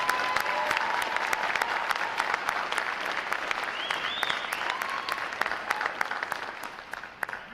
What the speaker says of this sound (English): How about a round of applause for their performance today